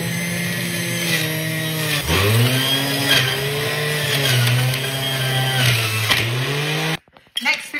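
A juicer grinding chopped ginger and turmeric runs steadily with a loud motor whine whose pitch dips and recovers as pieces go in, stopping abruptly near the end.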